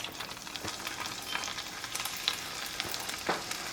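Meat searing face down in a hot pan for a gourmet Valentine's Day meal, a steady close sizzle with a few sharper pops and crackles throughout, no voices.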